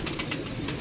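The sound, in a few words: pigeons cooing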